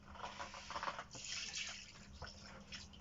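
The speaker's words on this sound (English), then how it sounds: "which I'm deliberately adding a full thing of water into." Water is poured into a thick mould mixture, giving a soft, continuous splashing and trickling that stays faint and close with small fluctuations and no talking.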